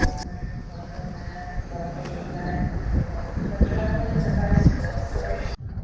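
Train at a Budapest railway station: a steady, rumbling rail-car drone with clatter and station bustle, fairly close and continuous, with voices faintly mixed into the background.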